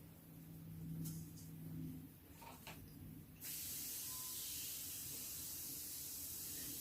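Water from a kitchen tap sprays steadily across the back of a chemically silvered mirror, a soft hiss that begins after faint handling noises and then runs continuously.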